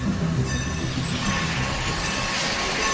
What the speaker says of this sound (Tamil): Maniyachi railway station.